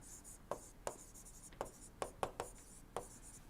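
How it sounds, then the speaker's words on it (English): Chalk or pen writing during a thermodynamics lecture: a series of about seven short, sharp scratching strokes at irregular intervals, quiet and close, with no talk over them. "So, let me write it."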